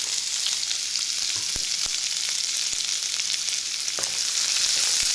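Carrots and beans sauté in hot oil with a constant bright sizzling hiss. Occasional soft ticks of stirring sound through it. The sizzle stays steady and close, and there is no speech.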